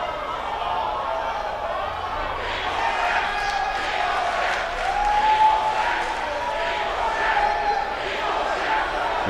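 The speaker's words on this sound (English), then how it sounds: "The crowd seems to be behind her. The crowd seems to enjoy Vanity." A video-game wrestling arena crowd in WWE 2K18 cheers steadily for a female wrestler, a loud, continuous roar with rising swells of shouting throughout.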